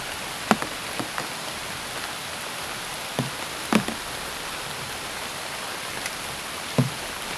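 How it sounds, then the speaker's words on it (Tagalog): Heavy rain pours in a steady, faint broadband hiss, with a few sharp knocks of drops striking a hard surface scattered throughout and no voices. "mas lalo pang malakas yung ulan."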